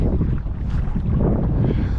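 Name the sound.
wind on a lake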